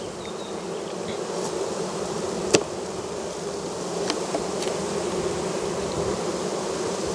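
Honey bees buzzing around a hive, a dense continuous drone of many insects close by, broken by a couple of faint sharp ticks, with no talk.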